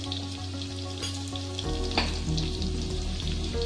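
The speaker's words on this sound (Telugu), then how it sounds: "చుక్కకూర పప్పుకు ఆనియన్ బాగా ఫ్రై కావాలి." Onions sizzle steadily in hot oil in a pan for chukka kura dal, with a spoon clinking and stirring partway through, close and continuous with no talk.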